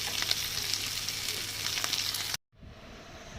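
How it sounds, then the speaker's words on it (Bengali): Small fish frying in oil in a pan, a steady close hiss of sizzling that cuts off abruptly, then a quieter lingering sizzle continues. "ছোট মাছ ভাজা কমপ্লিট"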